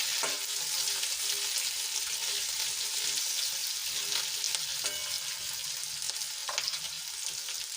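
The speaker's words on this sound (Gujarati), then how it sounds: "એક ઇંચ આદુના ટુકડાને મોટા સાઈઝમાં કટ કરી લીધા હતા એ ઉમેરી દઈશું બધું સરસ રીતે મિક્સ કરી લઈશું" Large-cut ginger pieces tossed into a frying pan for a capsicum gravy, producing a dense, loud, continuous sizzle with a few light stirring taps, close up and with no speech.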